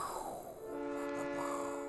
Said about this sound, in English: Come at me, train.